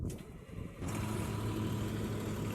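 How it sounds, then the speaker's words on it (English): A 2021 Blue Bird Vision school bus engine cranks briefly, then catches and settles into a loud, steady rumbling idle that fills the rest of the clip. "We're gonna go start up our bus."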